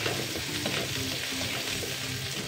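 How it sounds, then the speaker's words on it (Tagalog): Onion and garlic sauté in a pan for Filipino chicken tinola, giving a steady, close sizzle with soft stirring scrapes that runs unbroken the whole time, with no voices. "Gisa tayo ng sibuyas at bawang."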